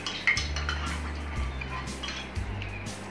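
A spoon clinks and scrapes against a bowl while colour is mixed into homemade play dough, giving a few close, light knocks and taps at an uneven pace.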